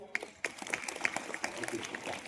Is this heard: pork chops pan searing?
no